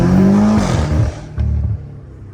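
A BMW F8X fitted with magnetic paddle shifters revs hard, then drops off with a sharp boom at the gear change before the engine picks up again, loud and close.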